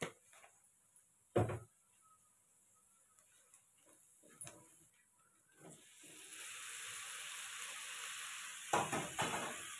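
Ingredients for a Telugu bachali leaf dal fry in a pan on the stove, first a quiet sizzle punctuated by sharp spoon clinks against the pan, then a louder, steady hiss of frying in the second half.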